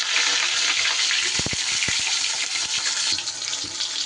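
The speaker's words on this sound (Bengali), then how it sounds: "তেলের মধ্যে পটলগুলো আমার ভাজা যাবে" Pointed gourd (potol) pieces fry in deep mustard oil with a steady, close, loud sizzle and a few sharp pops near the middle, with no voices.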